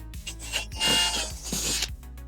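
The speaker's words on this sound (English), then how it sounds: "I'm going to go ahead and drill a small pilot bit there." A small power drill whirs in short bursts, drilling a pilot hole at the rear of a Camaro for a tow hook, a steady whine with rasping bite as it cuts in, then stops; close and fairly loud.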